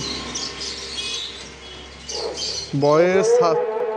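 Cockatiel chirps and squawks, close by, with a harsher repeated call toward the end; a voice talks throughout.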